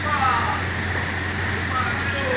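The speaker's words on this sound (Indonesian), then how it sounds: "Ini situasinya lagi hujan" Steady rain hiss fills the background under a low bus engine hum, with faint talk in the distance.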